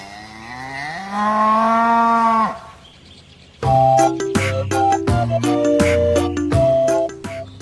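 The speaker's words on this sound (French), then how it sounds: "Mais cela reste le domaine des vaches." Cows mooing in the French countryside, a long rising low moo followed by a burst of several overlapping bovine calls, fairly close and loud with no talking.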